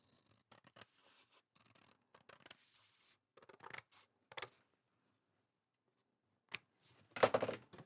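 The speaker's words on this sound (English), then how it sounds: "I have to use my scissors because it's very" Scissors trim a narrow strip of album paper, a string of quiet snips and crisp cuts separated by pauses, close and alone, ending with a sharper crinkle of paper.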